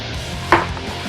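A kitchen knife cuts once through a small red onion on a cutting board, giving a crisp, close chop over a steady low background hum, with no one talking.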